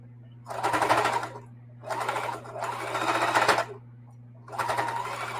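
A sewing machine zigzag stitches across a thick seam of a camo tote bag in four bursts of rapid, buzzing stitching, each lasting about a second, separated by short pauses over a low steady motor hum.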